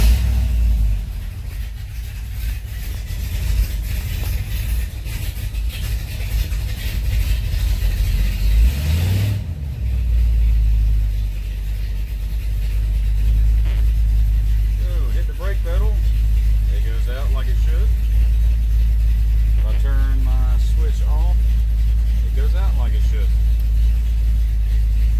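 A Chevrolet C10 truck with a 700R4 transmission and a new vacuum switch cranks and starts with a loud burst about a third of the way in, then settles into a steady, deep idle. Faint voices or chirps sound over the running engine near the end.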